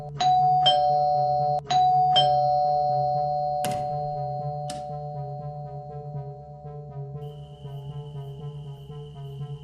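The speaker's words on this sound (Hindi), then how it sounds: "क्यों इतना डोरबेल बजा रही हो?" A doorbell chiming several times in quick succession, each ring bright and ringing out, then fading into quiet hum.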